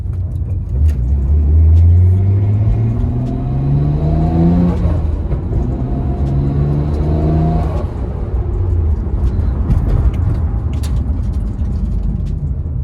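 A Nissan Skyline GT-R R34 M-spec Nür engine pulls hard through the gears while driving, a loud, close rising drone with climbing harmonics, a dip at a shift, then another rising pull and steady rumble.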